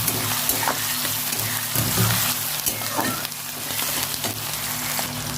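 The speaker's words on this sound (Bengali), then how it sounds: "পেঁয়াজ টমেটোটাকে ভালো করে ভেজে নেবো আগে" Onions and tomatoes frying in a pan with a little salt, a steady loud sizzle with occasional stirring scrapes, heard alone without talk.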